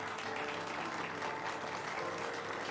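A party crowd in Mass Effect 2 applauds in a continuous, even wash of clapping, moderately loud and diffuse, with no distinct voices.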